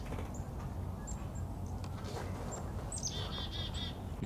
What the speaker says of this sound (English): here's the chickadees harassing me